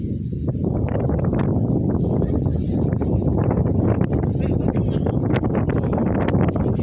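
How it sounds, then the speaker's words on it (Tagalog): Strong gusts of sea wind at Dingalan, Aurora buffet the microphone in a constant low rumble with rough, uneven bursts, loud and close, while people talk under the roar. "So, ayan, sarap ng hangin."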